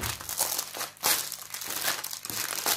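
Plastic packaging from a Miaodu diamond painting kit is opened up close, giving continuous crinkling and rustling with a few sharper crackles and no voices.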